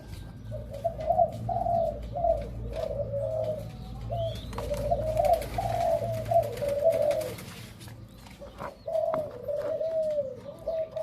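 Doves give repeated soft, rhythmic coos at a nest of birds with young, close and fairly clear, with a few short breaks between phrases over quiet background noise.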